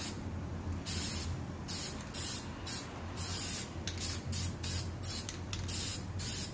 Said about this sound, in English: We use a spray gesso instead of just a regular spray paint